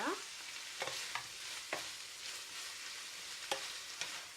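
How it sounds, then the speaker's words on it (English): Shredded cabbage and pork fry in a pan with a steady broad sizzle, broken by several sharp scrapes and clacks of a utensil stirring through the food. "Fry till your cabbage start to get less, because it's all cooking down"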